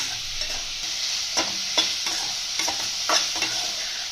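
Tender jackfruit pieces frying in hot oil, giving a loud continuous sizzle with occasional stirring scrapes over the top.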